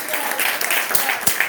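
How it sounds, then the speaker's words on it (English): Audience applause, a short burst of steady clapping from a gathered crowd, dense and even throughout without a break. "Give yourselves a round of applause."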